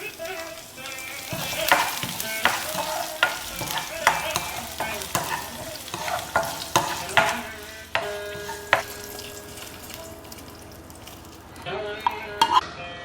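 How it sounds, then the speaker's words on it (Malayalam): Dried red chillies and a handful of curry leaves sizzle in hot oil in a pan for a sadya-style pineapple pachadi, a steady frying hiss with a spoon stirring and scraping at intervals. "ഞാൻ ഇതിലേക്ക് കുറച്ച് വറ്റൽമുളകാണ് ഇടുന്നത്."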